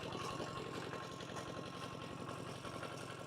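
A farm tractor engine runs at a steady, moderately loud idle with an even low throbbing and no voices.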